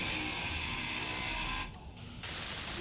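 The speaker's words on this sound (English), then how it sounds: "Let's grind that down real quick" A grinder tool in the Space Engineers game cuts down a block with a loud, steady mechanical whirring grind that drops away briefly and then resumes.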